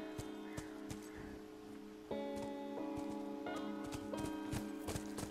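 Horse hooves clop in a steady walking rhythm in The Last of Us video game, a regular train of close taps over a sustained musical background, fairly quiet overall and with no voices.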